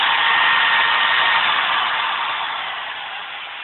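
A small 30-watt 220 V alternator, built as a student project, running: a steady, loud, close whirring hum that holds level and then eases slightly toward the end, with no speech.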